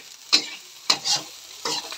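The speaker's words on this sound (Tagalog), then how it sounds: "Ito na yung aking fried rice." Fried rice frying in a pan while being stirred, three distinct scraping strokes of a utensil over a continuous close sizzle, fairly loud and evenly spaced, no speech.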